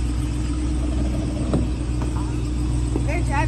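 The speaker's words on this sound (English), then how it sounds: "Somebody just started that truck." A truck starts up and pulls out of a car dealership, its engine a steady low rumble close by, with brief voices over it near the end.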